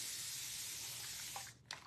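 A spray bottle sprays a continuous soft hiss of mist onto a board eraser, close and fairly quiet, fading out near the end with a couple of small clicks.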